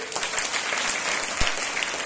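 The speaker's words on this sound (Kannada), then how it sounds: "ಚಪ್ಪಾಳೆ ಹೊಡಿಬೇಕು" An audience claps at a school co-curricular activities inauguration, a dense, steady burst of applause that holds at an even, fairly loud level throughout, with no speech over it.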